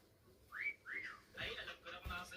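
A person gives two short rising-and-falling whistles, quiet and close, then talk follows.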